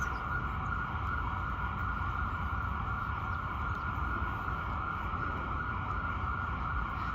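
A siren sounds continuously at a steady level near Central Park in New York City, mixed with broad traffic-like noise and no clear rise or fall in distance.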